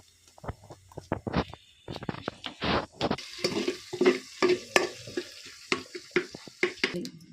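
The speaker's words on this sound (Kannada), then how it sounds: "ಇಲ್ಲಿ ಆಲ್ರೆಡಿ ಬೆಳ್ಳುಳ್ಳಿನ ಗೆಟ್ಬಿಟ್ಟು ಒಗ್ಗರಣೆಗೆ ಹಾಕಿದ್ದಾರೆ. ಇದು ಚೆನ್ನಾಗಿ ಫ್ರೈ ಆಗಬೇಕು" Garlic fries in oil as a tempering for vegetable pulao, with a soft sizzle broken by frequent sharp clinks and scrapes of stirring close up, irregular and bursty, with no talk.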